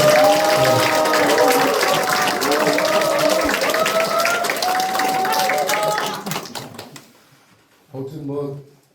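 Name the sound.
applause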